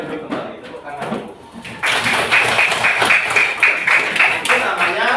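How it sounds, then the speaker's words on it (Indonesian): A classroom of students breaks into applause partway through, a dense, steady burst of many hands clapping that follows quieter room sounds and a brief voice. "Boleh duduk kembali, tepuk tangan dulu."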